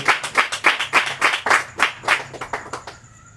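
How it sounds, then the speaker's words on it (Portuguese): A church congregation claps along in a steady, fairly quick rhythm of about a dozen loud, close claps. The clapping thins out and fades toward the end, with no talking. "Pode bater uma salva de palmas."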